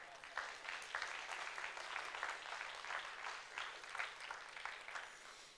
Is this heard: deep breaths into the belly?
no